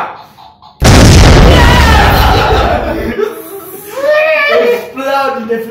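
A toy bomb goes off in a Passa la Bomba game: a sudden loud burst that holds as a dense, roaring blast for about two seconds, then gives way to excited voices and laughter.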